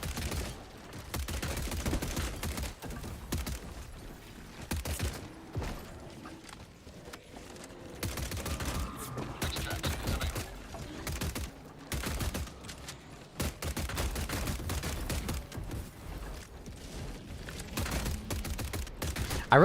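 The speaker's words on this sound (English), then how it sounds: "I have a lot of fun shooting at them" Rapid bursts of video-game gunfire aimed at obstructor enemies in an Illuminate battle, loud and dense, with repeated volleys and short pauses across the whole stretch, no talking.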